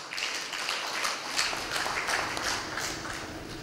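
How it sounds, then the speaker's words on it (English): A round of applause welcoming the High Commissioner at an Uganda–Tanzania investment conference, moderately quiet crowd clapping with a rumbling low background, sustained for a few seconds without speech. "Let's welcome him with a round of applause."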